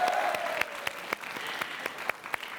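An audience at a parody hearing event claps in a dense, sustained round of applause, steady and moderately distant, with sharp individual claps standing out through the wash.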